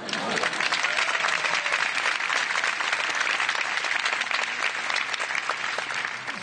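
Sustained applause from a concert audience for a performer in a tuxedo on stage, dense and steady clapping filling the hall for several seconds without a break.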